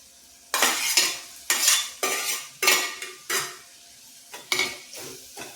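A spatula scrapes and stirs cut boiled eggs into an oily masala in a pan over a low flame. About nine distinct, close scraping strokes come in an uneven rhythm, with no talk.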